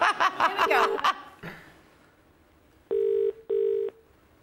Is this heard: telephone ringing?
yes